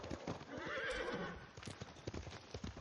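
Horse hooves clip-clopping and a whinny from a horse in the video game Ghost of Tsushima, a short neigh followed by rhythmic hoofbeats, fairly quiet.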